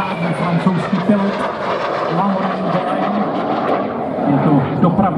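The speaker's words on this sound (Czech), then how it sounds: "Tak a už tady máme v průletu francouzský letoun" A French airplane passes overhead at the Pardubice air show, its engine droning steadily at a moderate distance while a commentator talks over it.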